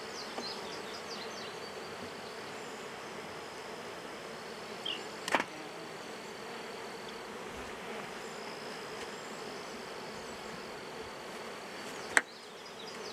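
Honey bees in an open hive hum as a faint, even drone that holds steady throughout, with a couple of soft clicks and one sharp knock near the end, no voices.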